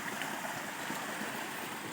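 Broad, steady rush of falling water at a waterfall in Kurnool, a dense continuous roar filling the whole stretch with no voices.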